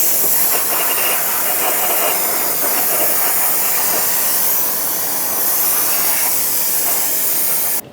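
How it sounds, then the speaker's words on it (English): Brake parts cleaner sprays in a long, loud, continuous aerosol hiss onto a Ford Excursion front wheel hub, close up, stopping abruptly at the end, with no voices. "let's rinse it off with some brake parts cleaner."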